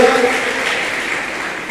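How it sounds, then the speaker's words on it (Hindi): An audience claps in honour of a devotee, giving a steady wash of applause that tapers slightly over a couple of seconds. "एक बार ऐसे भक्त के सम्मान में ताली हो जाए"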